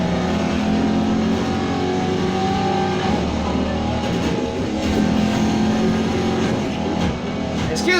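A 2019 BMW Z4 M40i racing in the video game Need for Speed Heat, its engine a steady, loud droning hum with shifting revs and tire noise, continuous and close throughout.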